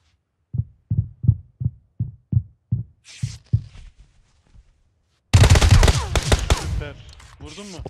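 A string of evenly spaced single gunshots thuds out in PUBG Mobile on the Erangel map, fading toward the end. After a pause, a loud burst of noise breaks in, with a voice mixed into it.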